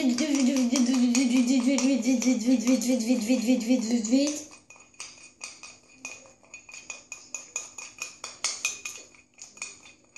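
A slime glue mixture being stirred quickly in a wobbly bowl, a run of rapid clinking and scraping taps of utensil against the bowl following a stretch of loud sustained tonal sound.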